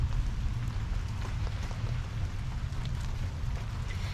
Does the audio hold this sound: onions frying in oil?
no